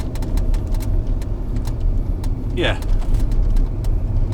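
A Range Rover drives along countryside roads, its engine and road noise forming a steady low rumble from inside the cabin, with small ticks and a short rising squeak over it and a voice briefly speaking.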